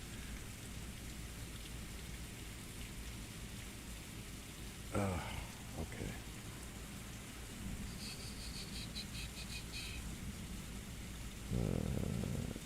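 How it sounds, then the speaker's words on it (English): Heavy rain falls steadily outside, a dense continuous hiss filling the background at moderate level, with a few brief knocks and a short word spoken over it. "it's raining pretty heavy over here"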